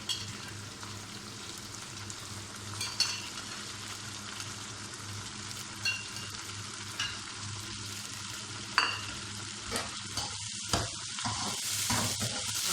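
Meat frying with spices and ginger in a karahi, a dense continuous sizzle close up, broken by repeated scraping stirs of a spoon against the pan.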